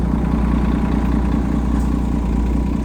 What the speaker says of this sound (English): Because there's a bus right here and it's really noisy, polluted.